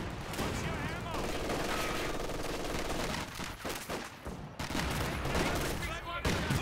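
Machine gun fire and grenade blasts from a Company of Heroes 2 battle, a loud, dense, continuous barrage of rattling bursts and booms with no gaps.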